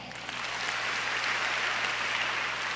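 Church congregation applauding together at a Christmas service, a steady, dense wash of clapping sustained for the whole stretch without a break.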